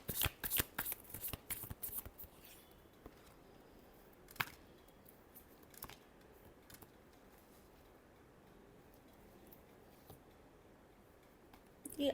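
Tarot cards being shuffled, with quick riffling flutters at the start, then sparse soft card taps and slides over a quiet room.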